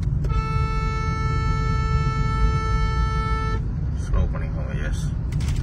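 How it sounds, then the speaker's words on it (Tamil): A car horn blares in one long steady honk over road and engine noise while driving on a Chennai highway, followed by a few brief traffic sounds. "ஹார்ன் அடிங்க"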